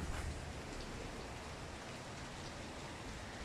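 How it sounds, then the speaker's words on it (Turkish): Heavy rain pours down steadily outdoors, a dense, even hiss of drops filling the scene without pause. "Şakır şakır yağmur yağıyor."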